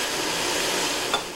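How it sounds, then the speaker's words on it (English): Lebanese shish kebab sizzling and crackling on a grill, a dense, steady hiss of frying close by with a small pop near the end and no voices. "It's the crackle and sizzle of a Lebanese tradition, shish kebab."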